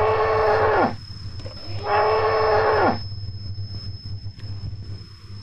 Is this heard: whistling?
no